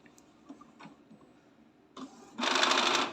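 Soft clicks and ticks, then a louder mechanical whirring of gears inside an Epson L365 inkjet printer as it reboots, running for about a second toward the end.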